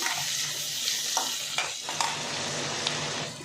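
Onion and tomato fry in a pan with close, steady sizzling, broken by scraping and stirring strokes of a spoon, with no voices.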